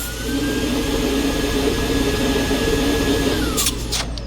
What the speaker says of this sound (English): I'm just going to measure high speed as per usual